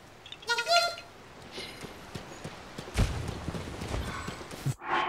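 Horse in Zelda: Tears of the Kingdom, with clip-clop hoof steps and a snort or whinny, plus splashy thuds as it dives, moderately loud and irregular.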